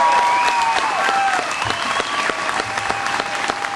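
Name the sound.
crowd applause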